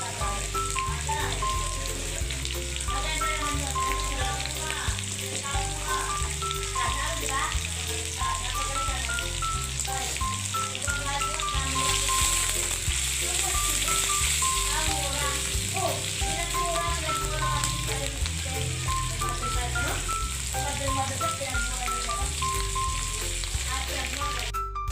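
Onions for adobong sitaw sizzle and fry in a pan, a continuous crackling hiss with occasional stirring clinks, while a person talks and a tonal beep pattern runs faintly behind.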